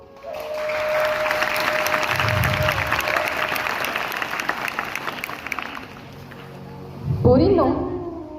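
An audience claps through a cultural programme honouring Savitribai Phule, a dense, even wash of applause that builds and holds for several seconds before fading, followed by a brief swell of voices.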